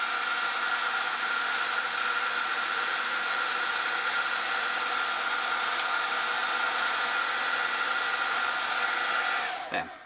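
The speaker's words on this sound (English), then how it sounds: "is using a hairdryer to speed up the drying process" A hair dryer blows loudly and continuously nearby with a steady whine, then switches off abruptly at the end.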